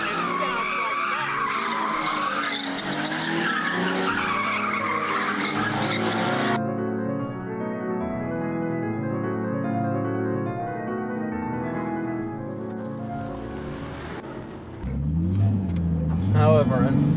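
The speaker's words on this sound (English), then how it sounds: "It's a bit more throaty, and it's a completely free-flowing dual exhaust." Nissan 370Z Nismo with a free-flowing dual exhaust, its engine note loud and sustained through the first seconds, then a steady harmonic drone that shifts pitch before a deeper surge near the end; speech-like rasp blends with the exhaust.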